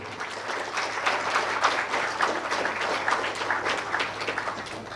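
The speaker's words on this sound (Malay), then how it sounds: "Sila berikan satu tepukan yang paling gemuruh." At a prize-giving ceremony for a digital pantun competition, an audience applauds with a steady, moderately distant patter of many hands clapping that lasts the whole stretch.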